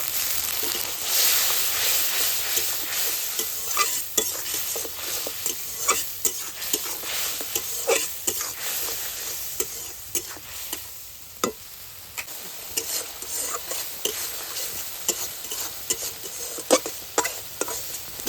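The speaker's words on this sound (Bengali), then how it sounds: "একটু জল দিয়ে মশলাটাকে ভালো করে কষিয়ে নেব" A masala of coriander powder, Kashmiri red chilli powder and salt stir-fried with a splash of water alongside okra, close and loud, with a constant sizzle and repeated sharp scrapes of the spatula against the pan.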